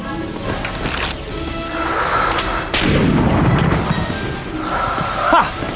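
Gunfire in the adventure game Jack Keane 2, a series of booming, cracking shots over a busy game soundscape, with a heavier burst near the middle and another toward the end.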